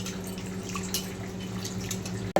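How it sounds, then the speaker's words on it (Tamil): Water swishes and drips as soaked raw rice and split moong lentils are rinsed for sweet pongal, a steady wet sloshing close by over a low background hum. "பச்சரிசியையும் சிறுபருப்பையும் ஊற வச்சுருக்கேன் இதை நல்லா வாஷ் பண்ணிக்கலாம்"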